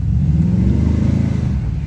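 LS1-swapped Jaguar XJ8 X308 V8 pulling away, a loud close-up burbling rumble with a rising rev and a lumpy, pulsing exhaust note, no voices.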